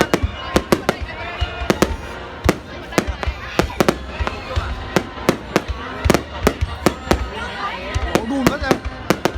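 Fireworks set off nearby in a Vietnamese celebration, sharp loud bangs popping irregularly over about nine seconds, with crowd voices and chatter running underneath.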